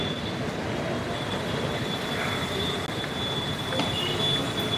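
A train rolls through Ghatkopar railway metro station with a steady rumble and a thin, sustained high wheel squeal, heard fairly close and continuous with no speech.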